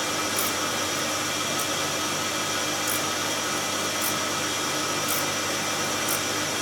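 Bench grinder wheel steadily grinding a small drill bit in a shop, throwing sparks: a constant close hiss-like whine with faint periodic light scratches as the bit touches the wheel, no talking.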